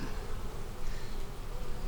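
Honey bees swarm around an open beehive during a late-season inspection, a dense, steady buzz close by that holds without a break.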